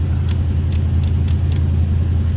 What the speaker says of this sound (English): That was a cold start, so we're probably going to be on high idle here for a little bit